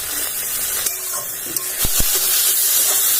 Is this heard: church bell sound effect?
no